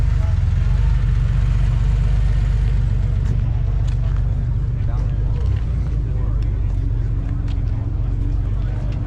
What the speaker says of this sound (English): You can hear the cars coming in.